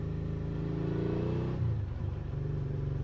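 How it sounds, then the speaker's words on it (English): A 2019 Suzuki V-Strom 650 motorcycle fitted with a Delkevic exhaust idles with a steady low engine drone, briefly blipping and shifting pitch midway before settling back, close and continuous. "It's just so nice to be able to hear the engine and have some character to your bike."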